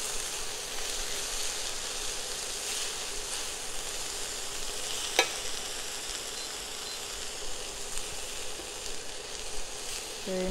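Salmon cake mixture is stirred in a bowl, making a continuous, close, wet, hissing swish with one brief click midway and no voices.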